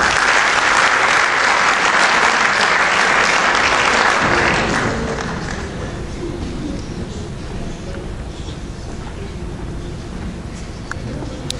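A seated audience applauds at a bicentenary civic ceremony in Spain, the clapping loud and dense for about four seconds before tapering to a softer, thinner patter that carries on with low room rumble underneath.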